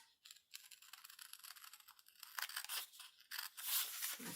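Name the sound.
cutting a sticker stamp loose from brown paper tape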